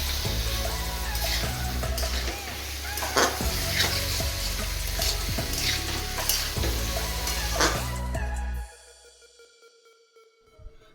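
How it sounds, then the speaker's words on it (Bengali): Potato and papaya stir-fried in spice paste, a loud steady sizzle with repeated spoon scrapes and taps against the pan that cut off abruptly, leaving a faint tail. "আলু পেঁপেটাকে ভালো করে মশলার মধ্যে কষে নিলাম।"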